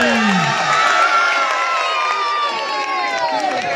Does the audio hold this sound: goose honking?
no